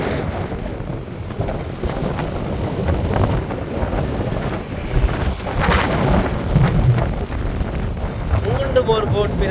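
Strong cyclone wind roars across the rough sea at Colombuthurai on the Jaffna coast, where boats are being swamped, buffeting the microphone in a continuous, loud, gusting rush mixed with the wash of churning waves.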